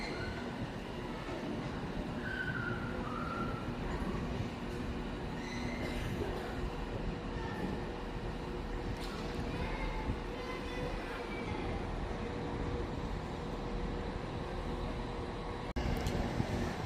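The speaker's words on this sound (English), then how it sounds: "there is the said Avanti Evero in the form of 805011, which I believe is coming in from Holyhead" Avanti West Coast Evero unit 805011 pulling into Crewe station on its run in from Holyhead, a steady rumble of wheels on rail with a few faint squeals, heard amid platform ambience and held at an even level throughout.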